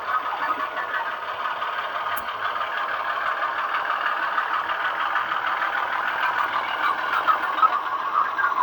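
A Bachmann model train locomotive with Zimo sound rolls over a set of points, giving a steady mid-pitched motor hum with a faint rhythmic pulse that builds slightly in loudness toward the end, heard alone.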